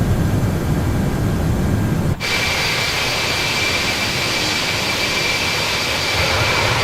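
Jet engines of an Airbus A330-300 heard from inside the cabin at cruising altitude, a loud, steady broadband roar that dips briefly for a moment before continuing unchanged.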